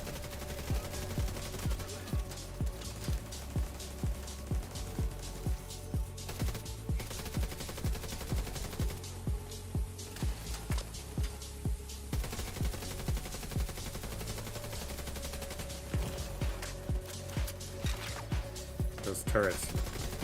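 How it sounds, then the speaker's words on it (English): Enemy turrets in The Division 2 fire steady, rapid repeating bursts at a distance, a regular pecking rhythm running under game music and a talking voice. "Those turrets are annoying, huh? They peck at your head from the farthest of distances, man."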